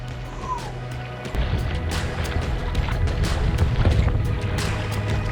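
A kayak is paddled across a windy lake with building swells, with water sloshing and splashing against the hull, close paddle strokes and steady rumbling wind noise throughout.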